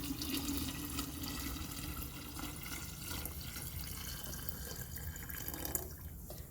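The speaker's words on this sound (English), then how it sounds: "So now I'm pouring it into another gallon jug." Kombucha poured into another gallon jug, a faint steady trickle and splash of liquid running throughout, with a small drip near the end and no talk.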